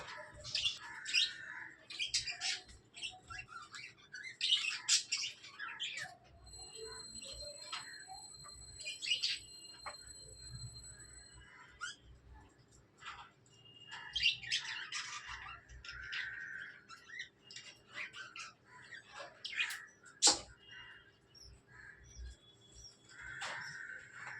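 Budgies and lutino birds in a cage chirping and twittering in bursts of high, quick calls, close by but fairly quiet, with a soft room hum beneath.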